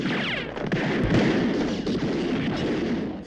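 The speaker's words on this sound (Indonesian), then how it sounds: "Dengan sigap, Alan dan polisi Charlie segera masuk dan terjadilah baku tembak." Gunfire in a film shootout as police storm a house, a dense run of sharp shots and booming blasts that merge into a loud continuous volley with no voices.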